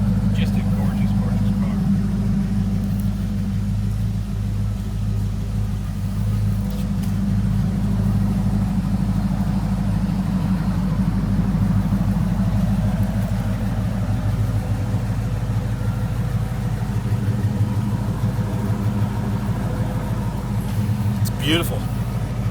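A 1950 Mercury Eight hot rod idles steadily after startup, a loud, continuous low rumble with a constant throb throughout, close by.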